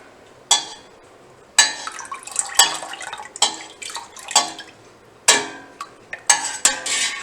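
Milk being stirred in a cheese-making pot as dissolved citric acid is added: sharp intermittent clanks and scrapes of a utensil against the pot with small liquid splashes, loud and close, no voices.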